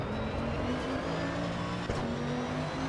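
A race car in the Assetto Corsa Evo racing game drones steadily through a hot lap, a faint engine tone holding and shifting pitch, with a brief thump partway through.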